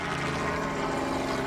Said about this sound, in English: like a helicopter go past